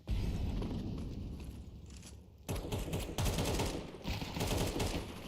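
Dense automatic gunfire and rapid shots crackle through a Counter-Strike match, loud and continuous, with grenade blasts thrown in and a brief dip before the firing surges back.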